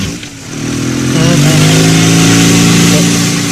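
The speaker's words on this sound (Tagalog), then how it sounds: "Uy, katong niagi nga motor." A motorcycle passes by outdoors, its mid-pitched engine drone swelling from faint to loud and steady over a few seconds, fairly close.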